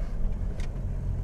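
A pickup truck's diesel engine, running rough on diesel mixed with petrol, drones low and steady up close with a brief hiss partway through.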